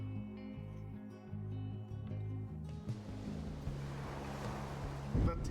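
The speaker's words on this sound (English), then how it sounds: "Oh, I heard the water. It's the boat." In the video game Pyre, a washing swell of water and boat noise rises over sustained musical tones and then continues as a broad surging rush.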